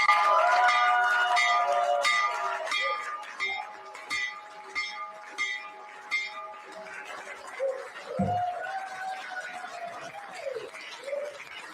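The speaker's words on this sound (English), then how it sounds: "So ring the bell, Mr. President." A stock market opening bell rings in rapid repeated strikes for several seconds, then fades out while voices talk.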